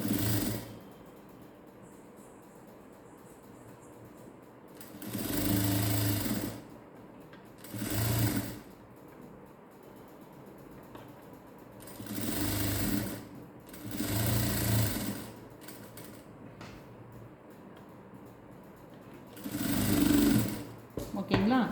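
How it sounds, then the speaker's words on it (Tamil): A sewing machine stitches lining cloth for a princess-cut blouse in several short, loud bursts separated by pauses, with a faint background hum between runs. "இப்போ நம்ம இதை ஸ்டிச் பண்ணியாச்சு"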